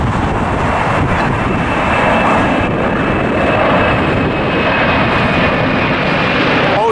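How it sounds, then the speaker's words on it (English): A jet airliner takes off from LAX with a loud, continuous roar of engine thrust and rushing air that holds steady throughout, and there is some wind buffeting on the microphone. "Another plane taking off"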